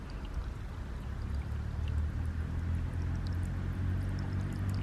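Water trickles from a hillside seep that feeds ponds in a Warsaw park. It makes a faint, continuous flow under a steady low outdoor rumble, with no voices.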